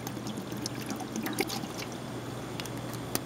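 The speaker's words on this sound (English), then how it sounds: "Now the vinegar, use about half a bottle, about one cup worth for a bottle of water." Vinegar being poured into a pot of water and beer for a crab boil, a steady soft liquid trickle with faint clinks, fairly quiet and continuous with no talking.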